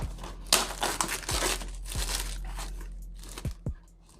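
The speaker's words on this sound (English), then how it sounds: "let me just cut open this box real quick" A box of budget SoundPeats TrueAir 2 wireless earbuds is cut open and unwrapped, giving close, irregular crinkles, tearing rustles and a few sharp crunches of cardboard and plastic, with no talk.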